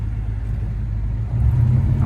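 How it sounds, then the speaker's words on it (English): A 1967 Chevrolet Chevelle SS 396 V8 rumbles low and steady up close, its deep engine note swelling slightly louder toward the end as the car pulls away. "We're going to take this car for a drive and see how it does."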